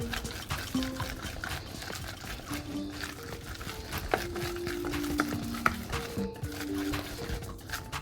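A meatball mixture with soy sauce and sesame oil being stirred by hand in a small batch, giving soft wet squelching and scraping with occasional clicks under a faint background hum.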